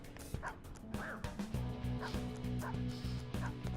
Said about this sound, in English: This dog is trying to lock in on me.